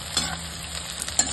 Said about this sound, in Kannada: ಇದೀಗ ಚೆನ್ನಾಗಿ ಫ್ರೈ ಆಗಬೇಕು, ಕರ್ಕೋಬೇಕು